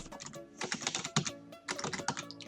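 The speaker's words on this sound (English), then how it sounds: "You can even add some little annotations here and start typing away." Fingers tap a computer keyboard in quick, irregular bursts with short pauses between them, close and fairly quiet, with no voices.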